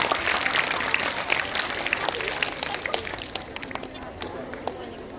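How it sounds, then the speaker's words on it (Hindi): Applause from an audience of students at a school gathering, a steady crowd of clapping hands that carries on for several seconds and slowly softens, with some voices mixed in. "जोरदार तालियों से।"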